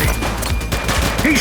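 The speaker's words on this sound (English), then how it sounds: "He's shooting!" A brief burst of gunshots from a police shootout in the video game The Precinct, loud and close, with a voice shouting over the fire.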